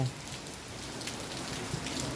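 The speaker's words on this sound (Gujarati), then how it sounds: "1 વાગ્યાનો વરસાદ ચાલુ થયો મિત્રો જોઈ લ્યો" Steady rainfall in the afternoon patters on surfaces in a dense, even hiss with scattered drops, continuous and moderately close.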